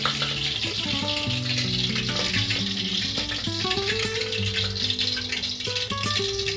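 Ground black masala is added to a pan of vegetables for black mutton and sizzles with a dense, continuous frying crackle close by, with rising and falling tonal whines layered over it.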